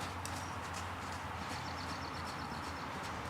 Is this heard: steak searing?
no